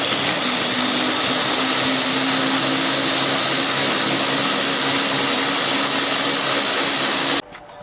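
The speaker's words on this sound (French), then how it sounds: "on commence à mixer nos spéculoos" A blender grinds speculoos biscuits for a strawberry cheesecake in a loud, steady whirring drone that runs for about seven seconds before cutting off abruptly.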